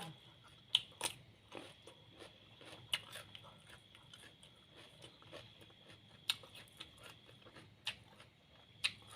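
Crunchy cucumber being bitten and chewed close to the microphone, a steady series of crisp, wet crunches at an uneven chewing rhythm, quiet and with no talking.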